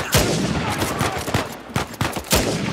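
Sniper rifle gunfire in Uncharted 4: a string of sharp, loud shots in irregular bursts, several close together, with a heavy report and brief tail after each.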